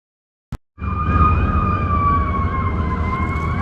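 A fire truck siren sounds close and loud after a brief sharp knock, then holds a steady wailing, warbling tone without a break.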